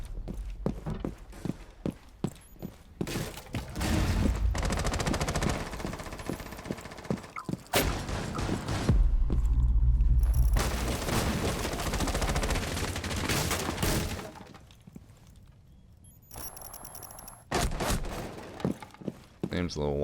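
Shotgun blasts and gunfire from a Rainbow Six Siege match, with sharp repeated shots in irregular bursts and footsteps and clatter between them, fairly loud and close, with voices talking over parts of it.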